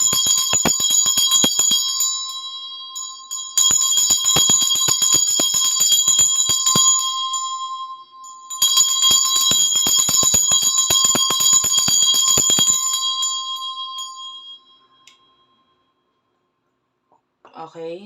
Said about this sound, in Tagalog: i-ring ko lang itong bell to cleanse the energy.